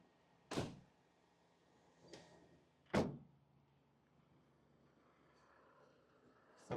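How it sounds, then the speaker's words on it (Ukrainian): Faint, distant Fiat Talento van door sounds: a few separate thunks and a sliding clunk spaced several seconds apart, with quiet background between them. "тут у нас двері відчиняються."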